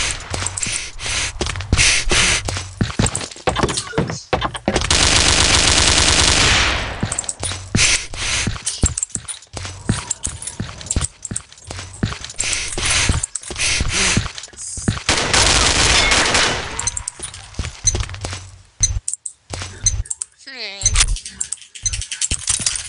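Machine gun fire in a video game, choppy rattling bursts that stop and start across the stretch, with one long sustained spray, mixed with frequent voices talking over the shooting.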